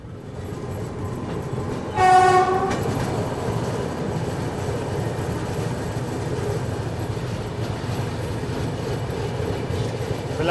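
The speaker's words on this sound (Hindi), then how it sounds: "फिलहाल लाजपत नगर स्टेशन अपनी गाड़ी स्किप कर रही है और वो चला" A Humsafar Express train runs through Lajpat Nagar station without stopping, with a steady rumble of wheels on track throughout and a single short horn blast near the start.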